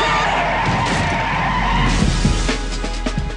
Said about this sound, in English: Carla, look out! Brake! Brake!